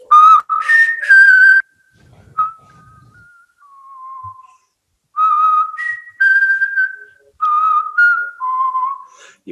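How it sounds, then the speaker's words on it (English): A person whistles a melody in short clear phrases, close and loud, with brief pauses between the notes. "You hear somebody whistle."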